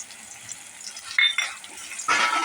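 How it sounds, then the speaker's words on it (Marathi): Ground masala and ginger-garlic paste sautéed in oil for an eggplant-potato curry, a low sizzle swelling into two louder bursts of stirring and frying toward the end. "आणि हे चांगलं आपण परतून घेऊया चांगलं तेल सुटेपर्यंत"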